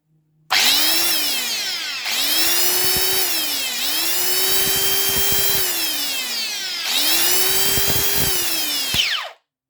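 A repaired electric chainsaw starts and runs at full speed in three long bursts of steady high-pitched whine, each spinning up and then winding down, loud and close with no speech.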